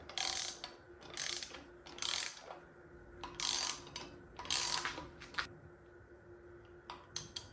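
A ratchet wrench clicks in repeated bursts while working a suspension bushing on a 2002 Ford F250 during a lift kit install, close and crisp, with short pauses between strokes.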